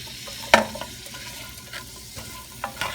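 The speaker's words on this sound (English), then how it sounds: "You're going to go ahead and put your shallots in. Give them a nice little sizzle." Shallots sizzle in a pan while being stirred. A soft, steady frying crackle sits under sharp utensil clinks and scrapes, with one prominent clack near the start.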